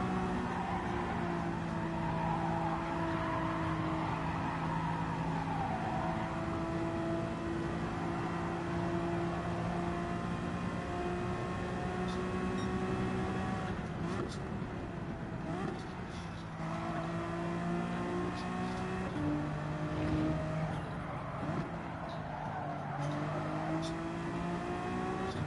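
A race car in Gran Turismo 7 accelerates through gears, its engine pitch climbing and dropping in repeated sweeps with brief tire scrubbing, loud and close throughout, no one speaking over it.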